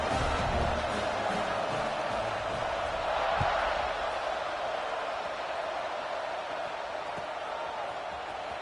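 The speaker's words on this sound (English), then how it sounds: "this crowd is buzzing after that last score" Stadium crowd at a Nebraska vs Washington college football game keeps up a steady, loud roar and buzz after a score ahead of a kickoff, with a commentator talking over it.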